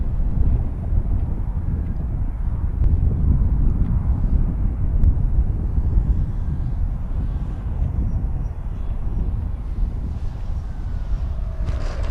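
An E-flite V1200 RC jet on 6s power flies over a paved runway, its ducted-fan whine building as power is added, heard as a broad steady roar mixed with gusty wind noise.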